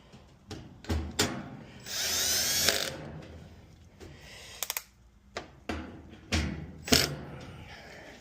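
A power driver whirs and ratchets briefly as screws go back into a Whirlpool appliance control board, alongside sharp clicks and knocks of parts being handled, close up and with no talking.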